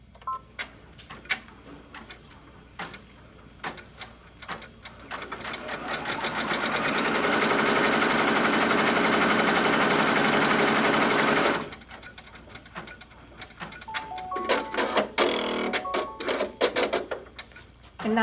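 A quilting sewing machine stitches fabric in an embroidery hoop while piecing a block: a few separate stitch bursts at first, then a long steady high-speed run, and after it stops, shorter intermittent stitching with a few beeps.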